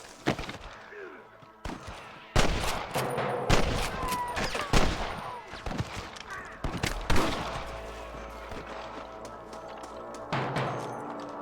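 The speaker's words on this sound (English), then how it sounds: "I can hear more gunshots." Repeated bursts of gunfire and rapid volleys in the video game Red Dead, loud and close, with scattered thuds and some shouting mixed in.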